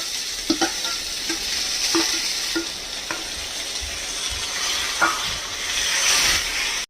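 Grated mango hits hot oil tempered with dried chilli and five-spice, giving a steady loud sizzle with repeated scraping stirs of a spatula against the pan, no talking.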